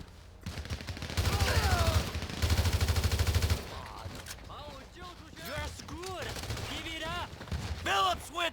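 Bursts of video game gunfire in GTA 5, including shotgun blasts, with two dense rapid volleys followed by scattered single shots and shouting voices in the mix.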